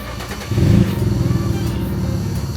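A right-hand-drive Nissan Skyline with a blown exhaust rumbles low and close, its engine note swelling abruptly then settling into a rough, steady drone for a couple of seconds.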